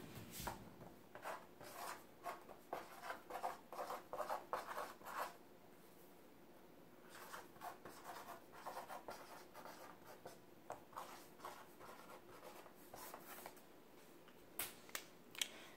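A pen scratches across paper at close range in a quiet room, with bursts of steady strokes, a short pause, then more intermittent scribbling and a few sharper taps.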